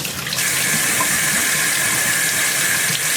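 Hot water running steadily from a laundry room sink tap, a constant close hiss and splash that continues unbroken with no talking.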